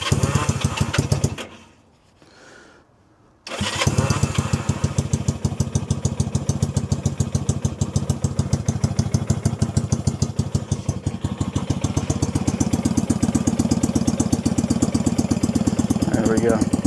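A cold Honda CB160 Sport motorcycle engine runs with its choke on, cuts out for about two seconds, then fires back up into a steady, close, loud idle with a rapid even putter.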